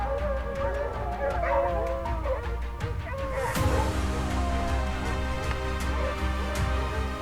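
Hunting hounds bay and yelp in a high mountain valley in the Ossau valley, with many overlapping barks and whimpers echoing at a distance over a steady outdoor background, and a voice briefly audible.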